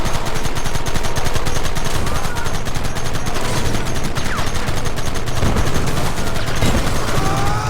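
Dense, sustained gunfire from a Red Dead Redemption shootout by a rock, with overlapping rifle and pistol shots rattling continuously at high volume for several seconds.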